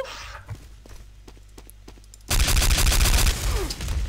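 Gunfire in the game Day of Defeat: Source: near-quiet with a few faint clicks and thuds, then a sudden, loud, sustained burst of heavy overlapping shots that keeps going to the end.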